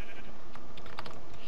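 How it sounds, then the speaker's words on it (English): Sheep bleats in a modded survival video game, a few short bleats over a background of computer keyboard typing clicks. "Sheep."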